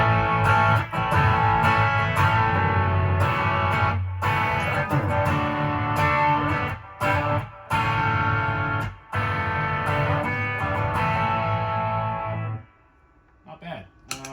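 Electric guitar with overdrive played through a Surfybear Compact Deluxe reverb unit: sustained, thick chords ringing loud and close with brief choppy breaks, then a sudden cutoff leaving a faint tail near the end.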